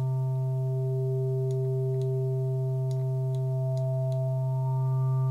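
A steady impOSCar2 synthesizer drone with a strong low tone and bright overtones, its timbre shifting slightly as the oscillator separation control is swept, with faint clicks.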